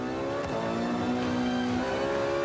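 Car engine revving steadily in the racing game Forza Motorsport 5, a loud, sustained mechanical drone with a rising pitch that holds throughout.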